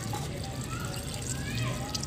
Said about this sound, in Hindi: ये डाल देती हूँ मैं इसमें, इसके अंदर पानी।